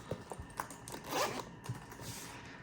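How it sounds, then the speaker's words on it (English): A Nintendo Switch carrying case is zipped shut in a few quick, close, quiet ratcheting pulls, with a longer drawn stretch in the middle. "I put it in and I can go ahead and zip it up."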